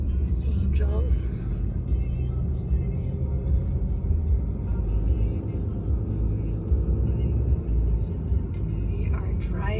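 An RV rolls across the Hoover Dam road, its cabin filled with a steady, heavy low rumble of road and engine noise for the whole stretch, with brief muffled voices underneath.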